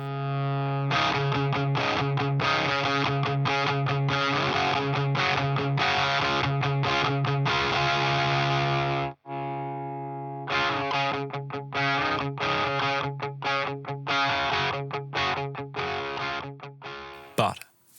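Electric guitar through a fuzz pedal with a buffer placed between guitar and pedal, dense distorted sustained chords, then a short break and choppier fuzzy riffing, loud and close with no talk.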